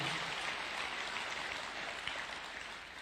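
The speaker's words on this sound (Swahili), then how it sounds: "Tuweka makofi tafadhali" Audience applause at a Methodist Church in Kenya event hosted at State House, a steady faint wash of clapping from a distant crowd that fades slightly toward the end.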